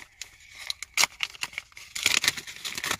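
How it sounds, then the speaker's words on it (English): A mailed greeting card envelope being torn and opened, with close, sharp bursts of paper ripping and crinkling. "Let's open card number one."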